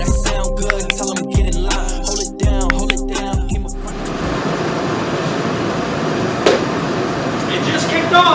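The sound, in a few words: heater kicking on in the workshop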